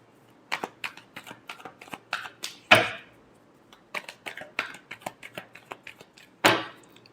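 Tarot cards are shuffled by hand in two bursts of quick, crisp riffling flicks, each ending in a louder riffle and snap of the deck, recorded close with no talk.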